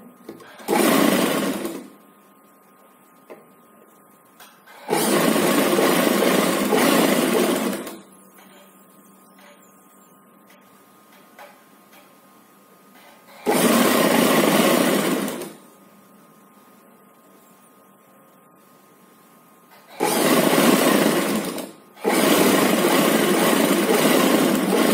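A sewing machine stitching a baby frock runs in several loud bursts of steady whirring lasting a few seconds each, separated by quiet pauses.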